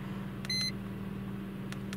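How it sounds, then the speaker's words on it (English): A short electronic beep from an iCarsoft CR Pro diagnostic scanner sounds once, clear and bright, over a low steady hum, with faint clicks afterward. "You can turn the beeping off on the screen if you want"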